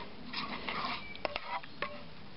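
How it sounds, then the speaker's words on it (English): A spoon stirs campfire chili in a pot over an open fire with soft scraping and a few light metallic clinks against the pot, quiet and close. "I'm just going to give that a good stir"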